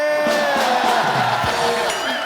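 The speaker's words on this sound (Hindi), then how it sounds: "जोरदार तालियां" A studio audience at a Hindi comedy talk show erupts in loud, continuous cheering and whoops, a dense crowd roar filling the whole stretch, with shouts layered throughout.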